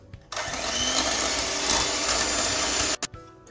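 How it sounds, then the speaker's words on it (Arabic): An electric mixer beats eggs, butter and sugar with a loud, steady, close whir that runs unbroken, then stops abruptly with a couple of brief restarts at the end. "غادي نطرب المكونات ديالي، البيض والزبده والسكر بالطراب"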